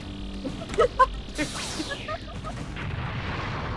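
Video game explosion of a nearby building: a few sharp booms followed by a broad crackling rumble that settles into a steady low roar, fairly close, with voices talking over it.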